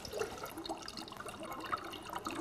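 A 38-gram chunk of dry ice sinks in water, giving a steady, quiet bubbling and fizzing hiss with soft gurgles throughout, close and without voices.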